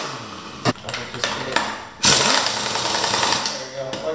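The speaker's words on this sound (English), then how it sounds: "you just keep on hammering with the air impact until you hear that ugga-dugga sound like a lot of times." Air impact wrench hammering lug bolts onto a European car wheel, a few short bursts followed by a longer loud rattling run, close and harsh, with no talk over it.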